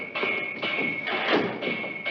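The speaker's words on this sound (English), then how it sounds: "Will you stop that banging up there?" Someone bangs on the water pipes in an upstairs apartment, giving a run of muffled, evenly spaced thumps and clanks that sound dull and slightly distant, as if heard through the ceiling, with no one speaking.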